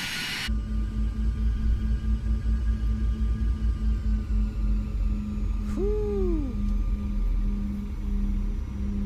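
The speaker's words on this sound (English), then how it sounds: "does that not sound like you're on a real airplane?" CRJ-700 airliner engines in a flight simulator, a steady low drone with a constant mid hum and rumble, plus a brief rising-and-falling whine partway through, heard continuously throughout.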